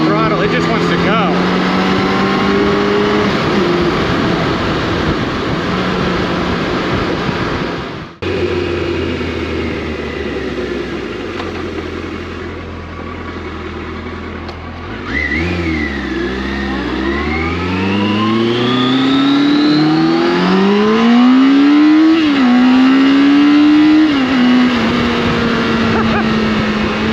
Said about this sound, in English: we're in 4th gear right now. I twist the throttle, it just wants to go.